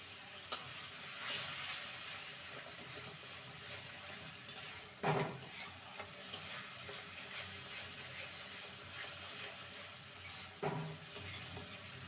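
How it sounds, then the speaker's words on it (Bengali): Spice masala with salt and chili powder sautéing in a pan for a brinjal dish, a faint continuous sizzle with a few sharper knocks of stirring, no talk. "মশলাটাকে ভালো মতন কষিয়ে নিয়েছি মশলা থেকে তেল রিলিজ হয়ে গেছে"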